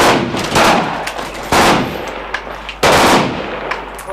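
Rapid bursts of automatic gunfire crack out loud and close, three distinct volleys separated by short pauses, with no talk over them.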